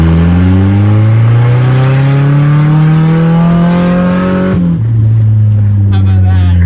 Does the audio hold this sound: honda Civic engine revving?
yes